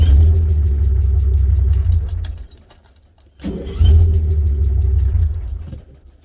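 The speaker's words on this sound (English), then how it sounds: "we've enjoyed a little bit of a drive in the FJ with Louie" A Toyota FJ fitted with a 4-brush starter motor runs with a loud, close engine rumble that fades to near quiet, then starts up again and settles back into a steady idle, with faint jingling over it.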